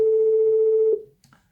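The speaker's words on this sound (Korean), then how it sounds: "전화가 왔는데요" A steady telephone tone sounds loud and close for about a second, then cuts off, followed by a faint short click or blip, in a quiet room.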